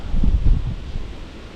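Wind rumbles and buffets a microphone outdoors while spin fishing in bad weather, a low steady roar with a stronger gust at first.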